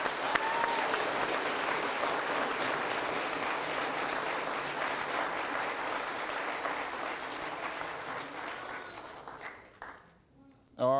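A fire department pinning ceremony crowd applauds new firefighters with a long, full round of clapping that fades near the end, where a voice comes in over the last moments.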